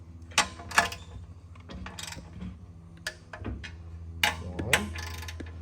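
A 1/4-inch torque wrench clicks as small bolts are tightened to 106 inch-pounds during an LSA engine refresh and assembly, giving a few sharp, close metallic clicks and ratchet sounds separated by pauses.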